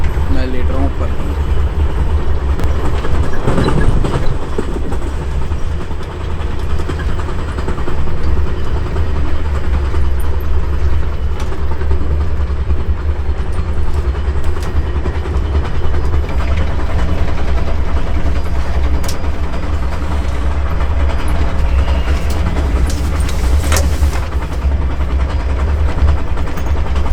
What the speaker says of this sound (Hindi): ट्रेन काफ़ी स्लो हो गई